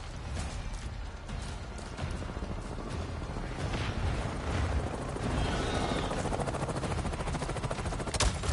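Dense, loud video game action from Avatar: Frontiers of Pandora, with a helicopter's rotor drone buried under a steady mix of gunfire and explosive bursts across the whole stretch.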